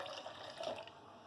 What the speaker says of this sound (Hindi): ये ठंडा पानी हमने इसमें ऐड करा है